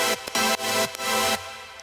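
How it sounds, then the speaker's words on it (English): A synth line in an electronic dance track with an automated filter sweeping across it, chopped into short bright bursts separated by brief gaps, the tone opening and closing over a couple of seconds. "we have some kind of filter movement"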